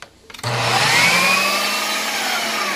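A food processor whirs as it mixes chopped onion into homemade peanut butter, a loud steady motor hum that kicks in abruptly after a few clicks and holds evenly with no talking.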